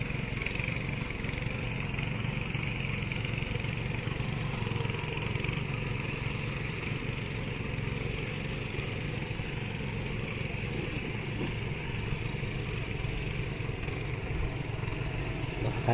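A steady engine drone comes from a tractor ploughing a paddy field ahead of rice transplanting in Kumbhavade, Rajapur. The mid-pitched rumble holds constant for the whole stretch, close and continuous.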